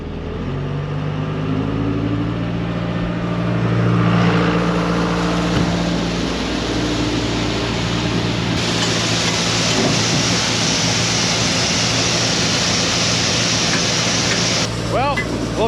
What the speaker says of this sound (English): now we turn the auger on. Hearing it start to come into the corn now.